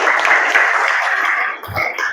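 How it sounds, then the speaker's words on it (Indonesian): Classroom applause from a group of students, a dense patter of clapping that carries on for about two seconds, close and fairly loud, then tapers off. "Oke, tepuk tangan."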